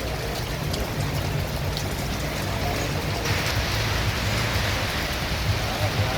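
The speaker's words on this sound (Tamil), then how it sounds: "வெளியே வந்தால் பார்த்தீங்கன்னா பயங்கரமான மழை பெஞ்சிருக்கு" Heavy rain pours outside a shop in Tirukkoilur town, a steady, dense hiss of falling water and splashing that stays even and loud throughout, with no clear voices.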